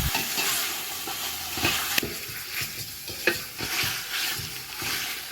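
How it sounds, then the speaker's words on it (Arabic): Meat and tomato paste sizzle steadily in a hot pan, with occasional scraping stirs and clicks of a utensil, close up and continuous. "هنديهم تشويحه مع بعض لغايه ما ريحه الصلصه تظهر معانا"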